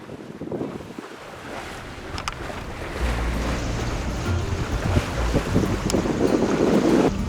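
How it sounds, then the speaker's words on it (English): Sailboat motoring at low revs through light wind, with a low engine rumble building after a few seconds under gusty wind buffeting the microphone and washing water, fairly loud and continuous without talk. "We're making some of that because we are still motoring, but just at low revs."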